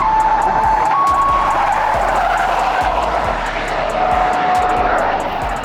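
An electric race car launching at the Pikes Peak hill climb, heard as a steady whine with tire noise over constant outdoor wind and crowd ambience, with no engine roar.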